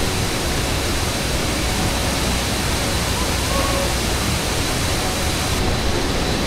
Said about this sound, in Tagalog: Ang lakas nung agos ng tubig.